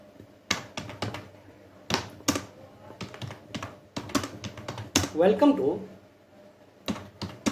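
Typing on a computer keyboard while writing HTML code, close clicks and taps in irregular clusters with pauses between bursts, someone speaking briefly over the keystrokes.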